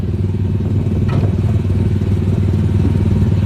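A loud, steady engine drones close by throughout, a motorcycle or similar vehicle with a rough, clattering tone likened to a tractor, with faint thumps and no clear speech.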